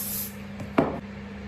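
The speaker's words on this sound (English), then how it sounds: "I'm just dotting a little bit of melting spray" A short, sharp hiss of melting spray dotted onto a wig, one quick burst standing out close against a quiet, humming room.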